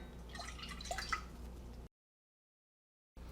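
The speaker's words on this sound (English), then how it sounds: "To that, I'm going to add 3/4 of a cup or 188 milliliters of water." About three quarters of a cup of water goes into a pot of crushed tomatoes for picante sauce, a close, brief splashing pour with drips, followed by silence.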